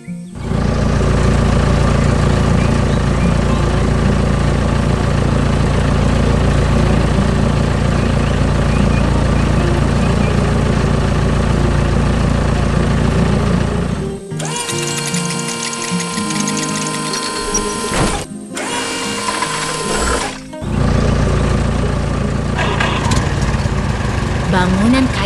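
Green construction machine working on brown earth in a cartoon, a loud continuous droning engine that holds steady, then shifts to a choppier, rattling tone with brief breaks before resuming.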